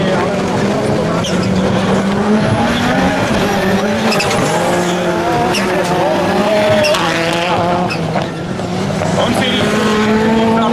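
Supercar rallycross race cars at Sedlčany roar continuously with rising and falling revs and tire noise, loud and close, under excited commentary.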